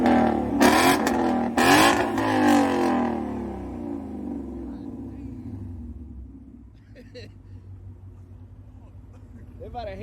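Mustang GT 5.0 with a loud X-pipe exhaust, starting with two sharp raspy revs that fall back to a deep idling rumble, with people talking nearby.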